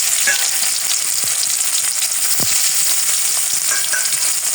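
Kneaded Kashmiri dough pieces sizzle steadily in hot oil in a wok, a dense continuous frying hiss with a few soft clinks from a utensil, no voices.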